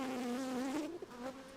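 Honey bees buzz during a removal from a chimney, a continuous close, wavering drone that dips briefly near the end, fairly soft overall, with no talk.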